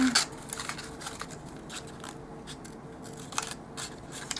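Scissors trimming a small paper doll-size flour bag to its fold line, a few crisp snips and light paper rustles close by, quiet between cuts.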